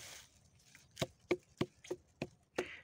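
Hand knocking on a homegrown watermelon picked in a home garden, six hollow, dull thumps in a fairly steady rhythm, close and clear with no talking.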